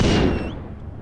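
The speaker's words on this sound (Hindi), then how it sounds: "पटाखे," A firecracker bursts loudly on New Year's night in a Hindi action film, one sharp close bang fading into a short rumbling tail.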